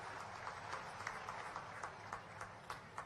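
A crowd at a public inauguration of a water park in Shahdol claps together, faint and distant. The applause is a steady wash with rhythmic surges, and no voices can be heard over it.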